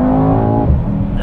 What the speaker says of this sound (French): on est quand même sur un bon gros moteur V8 à l'ancienne, entre guillemets, parce qu'il y a quand même deux turbos